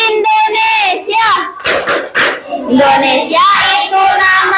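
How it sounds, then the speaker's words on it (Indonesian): A group performs the Indonesia clap chant, rhythmic hand claps mixed with people chanting loudly together, close and energetic. "1, 2, 3. Tepuk negara Indonesia."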